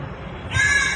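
A crow at Ayodhya Dham railway station gives one harsh, drawn-out caw that some hear as "Ram Ram". It starts midway and stands close and fairly loud over low background rumble.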